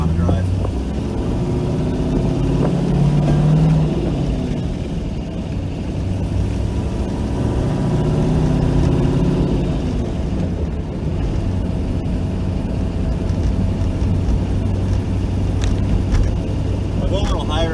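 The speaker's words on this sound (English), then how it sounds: "I'll go a little higher in the RPMs once I get up here a little bit more." LS1-swapped Dodge Stealth engine droning steadily while driving, a low continuous rumble with gentle rises in revs, and someone talking over it throughout.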